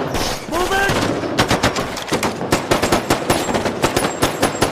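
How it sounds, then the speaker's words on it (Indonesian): Rapid bursts of automatic gunfire crackle through a film shootout as former soldiers turned robbers trade shots, loud sharp reports in quick irregular volleys with a brief tonal sound near the start. "salah satu anak buah Nick berhasil menembak Lee Fox yang saat itu lagi berlari"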